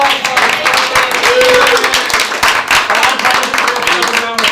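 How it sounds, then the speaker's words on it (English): An audience at a kickoff presentation gives a loud, close round of applause with clustered claps and cheering voices mixed in throughout. "let's give her a round of applause"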